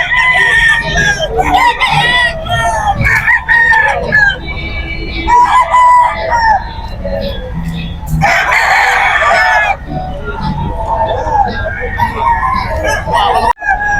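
An 11-month-old Nielsen Black gamefowl rooster crows loudly and close by at the Bocaue pet market. It gives repeated full cock-a-doodle-doo calls with clucking from other fowl, and people talk in the background.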